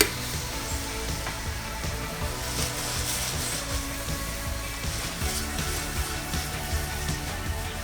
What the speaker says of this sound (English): now it's time to add our garlic, and that's going to cook for 2 minutes